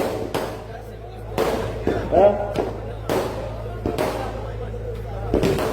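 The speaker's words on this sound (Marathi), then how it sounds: "फटाके" Several sharp firecracker bursts crack out at irregular intervals over a low steady hum, fairly close and loud, at a public rally in Solapur district.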